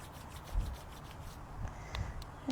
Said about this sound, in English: Bring your hands together and warming the hands, rubbing the hands together.